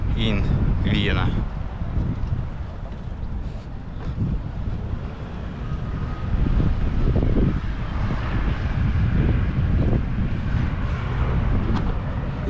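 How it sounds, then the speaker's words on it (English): Strong wind in Vienna buffets the microphone in a steady low roar, with gusts rising and falling throughout; a brief voice-like chirp near the start. "It's very windy,"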